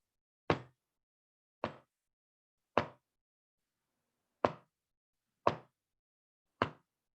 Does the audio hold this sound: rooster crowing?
no